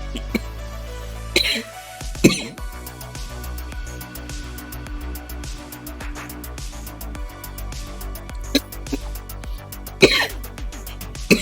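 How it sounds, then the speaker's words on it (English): A streamer coughs and clears his throat in sharp, repeated bursts, scattered across a stretch of quiet background music and room sound. "And so I cough."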